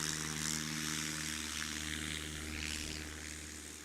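Engine drone of a Piper Cherokee light propeller airplane at an aviation competition on a near-windless day, a steady mid-distance hum holding level and easing slightly toward the end, with no talking.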